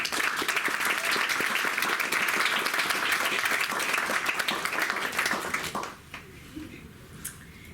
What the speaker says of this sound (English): Let's have a round of applause for Dion.